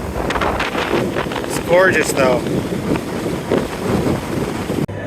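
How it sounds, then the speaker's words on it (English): Strong wind buffets the microphone on an open pavilion patio overlooking a lake at Cedar Point amusement park as a storm moves in, a loud continuous rumble with gusts throughout while a person speaks over it. "Incredibly windy up here."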